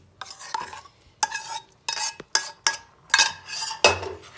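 Halim seeds stirred into melted jaggery for laddu, giving a series of scraping, clinking strokes of a spoon against the pot, about six separate bursts close by, with no voices.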